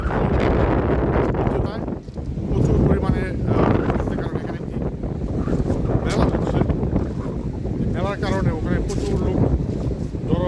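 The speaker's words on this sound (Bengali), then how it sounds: "এখানে বাতাস ছাড়া কিছুই নেই" Heavy, gusty wind buffeting the microphone on an open, nearly empty Normandy beach, roaring and rumbling throughout, with voices faintly talking underneath.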